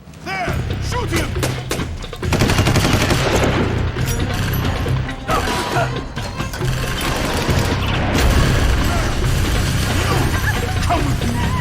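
Dense gunfire in the Xbox tactical shooter Rainbow Six 3: Black Arrow: a loud, sustained burst of rapid shots and heavy thuds runs through the whole stretch, with a few voices shouting over the din.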